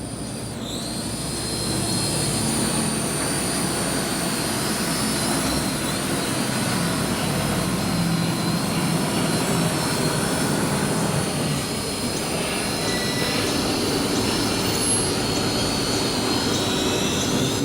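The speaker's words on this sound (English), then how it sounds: "increase the throttle, and the drone will take off" Aerpro APSKY drone spinning up its rotors for takeoff, a steady high-pitched whine with harmonic tones that rises over the first second and then holds loud and close for the rest of the clip, over wind-like broadband rumble.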